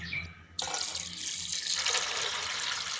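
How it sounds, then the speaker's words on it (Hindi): Tap water running and splashing into two cooking pots for bajra haleem, a steady close broadband rush that starts abruptly after a brief quiet moment and continues, growing slightly fuller, with no talking. "इस तरह से में पानी डाल दें दोनों में"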